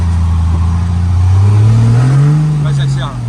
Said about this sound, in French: Doucement, accélère doucement.